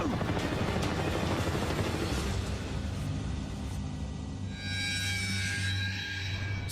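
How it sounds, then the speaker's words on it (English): A Black Hawk military helicopter rumbles overhead with a steady rotor drone that thickens and grows louder toward the end, heard outdoors near Sedona, Arizona. "That is a military helicopter. In fact, it's a Black Hawk."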